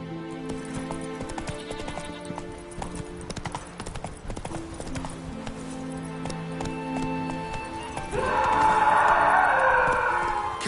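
Hooves of the horse Roach galloping in The Witcher 3, a steady rapid clip-clop over game music, growing louder and busier toward the end.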